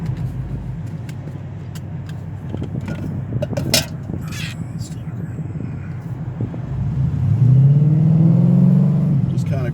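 A 2008 Mustang GT rumbles at low speed with some clunks and shifting noises, then the engine note rises as it accelerates near the end, heard from inside with a person talking over it.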